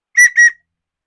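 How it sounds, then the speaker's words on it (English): A small handheld whistle blown twice in quick succession, two short shrill close blasts followed by silence. "So next we've got another little whistle."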